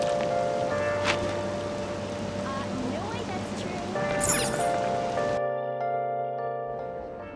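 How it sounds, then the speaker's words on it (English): Steady rain hiss with patter in the game Persona 5, mixed with synthetic game tones and music; a bright chime cuts through, and the background drops out near the end. "this rain is so annoying"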